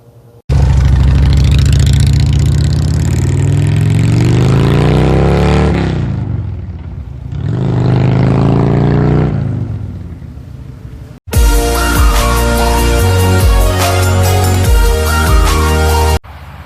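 Motorcycle engine revving hard while riding, loud and close, rising and falling through the gears with a brief drop-off before a sharp, busier burst of revs near the end.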